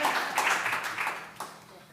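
A round of applause at a school board meeting, a dense burst of clapping from the room that gradually fades over a couple of seconds.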